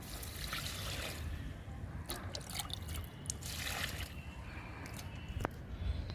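Liquid fertilizer trickles and splashes onto a potted plant's soil in a soft, continuous pour with a few louder splashes, close by in a quiet garden setting.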